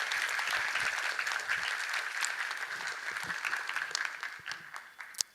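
A theatre audience breaks into vigorous, sustained clapping at a stage play, a thick wash of many hands holding strong for several seconds with a last few sharp claps at the close.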